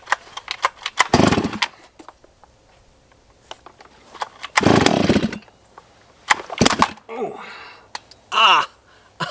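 A Stihl MS660 chainsaw being pull-started, with several loud rasping bursts and short runs that sputter out between pulls, close up; a voice gasps or exclaims near the end.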